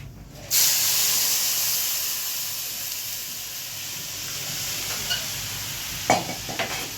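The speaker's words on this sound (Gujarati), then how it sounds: "ઘી તમે વઘાર કરો ને એમાં થોડું ઘી મૂકો ને એટલે બહુ સરસ વઘાર આવે." Tempering of mustard seeds, fenugreek, dried chillies, curry leaves and asafoetida in ghee bursts into a loud, close hissing sizzle that slowly settles, with a few crackles and stirring clinks toward the end.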